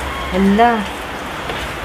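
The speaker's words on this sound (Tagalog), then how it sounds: "Umuulan, no?" Steady rain falling during the monsoon season, a continuous hiss near and moderately loud, with someone briefly speaking over it.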